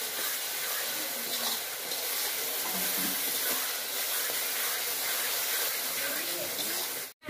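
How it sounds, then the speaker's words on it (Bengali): Garlic paste frying in a pan gives a steady, close, broadband sizzling hiss that holds evenly for several seconds before cutting off abruptly at the end. "রসুন বাটা দিয়ে দিচ্ছি। রসুনটা ভালো করে ভেজে নেব।"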